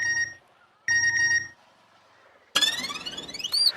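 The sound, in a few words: phone ringing unanswered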